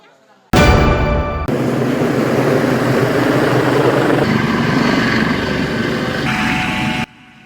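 A helicopter deployed for flood and landslide evacuation in West Sumatra roars with loud, steady rotor and engine noise for several seconds, starting abruptly and cutting off near the end.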